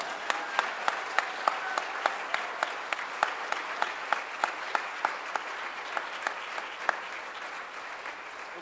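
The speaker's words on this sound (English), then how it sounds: "I think he deserves a bigger and longer applause." A church congregation claps at a baptism service, with a fairly faint stream of crisp, evenly paced handclaps that carries on steadily throughout.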